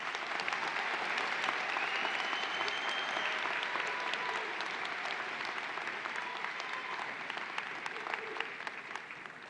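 A university fall commencement crowd claps for the graduates, sustained, even applause from a large room that slowly softens over several seconds, with faint tonal sounds beneath it.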